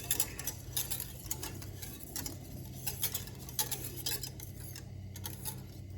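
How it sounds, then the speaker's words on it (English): Whisk spun in a pot of melting mixture for smoked buffalo chicken scalloped potatoes, giving quick light metallic ticks and scrapes in an uneven rhythm over a low steady hum, close and fairly quiet. "just take my whisk and just start spinning it just to get that first bit"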